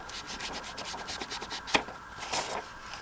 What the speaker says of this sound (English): sticking like a scrap piece of paper or something like that inside your pocket here, and then just rubbing against it